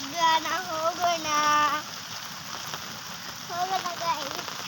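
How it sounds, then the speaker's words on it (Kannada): Rain falls among areca nut palms as a steady, fairly loud hiss, with a voice speaking over it near the start and again near the end. "ಮಳೆ ಬರ್ತಾ ಇದೆ"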